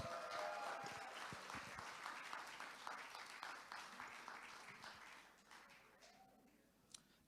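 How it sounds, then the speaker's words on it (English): Audience applause at a Rotary district conference as a district governor nominee designate walks to the stage, a fairly faint, steady patter of clapping from a room that thins out toward the end. "give her a round of applause as she approaches"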